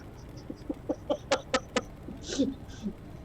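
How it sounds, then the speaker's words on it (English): Birds on a balcony give a quick run of rising clucking, chattering calls, close and clear, followed by a couple of softer squawks. "we got some birds that wanted to, do the nasty on my balcony"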